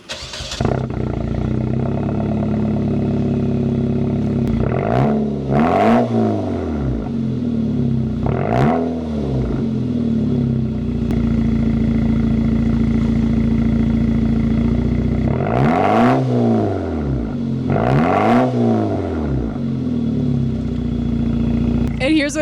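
A Nissan Juke NISMO starts up and idles with the microphone beside the exhaust, a loud close steady rumble broken by several sharp throttle blips and revs, with no talking over it.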